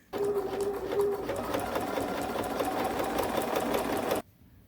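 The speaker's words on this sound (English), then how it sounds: "the top stitch the coin pocket to the pocket insert" A sewing machine topstitches a coin pocket onto a pocket insert on corduroy jeans, running in one steady, close, continuous burst for about four seconds before stopping abruptly.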